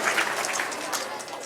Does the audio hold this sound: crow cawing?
no